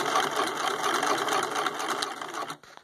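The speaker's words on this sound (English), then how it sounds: "I'm just gonna put it in the zigzag mode and do a little sewing here" A Husqvarna Viking 6570 sewing machine stitches a zigzag pattern, with a fast steady mechanical whirr and rhythmic needle chatter, close and loud, that stops abruptly near the end.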